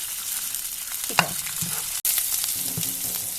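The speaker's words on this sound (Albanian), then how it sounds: "Dhe mishi i grirë u skuq" Minced meat frying in a pan, a steady soft sizzle running throughout with a few brief stirring scrapes and clinks, fairly close and with no talking.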